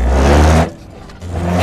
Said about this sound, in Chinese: 正常骑行下这个电机发出来的声音像是摩托车的声音一样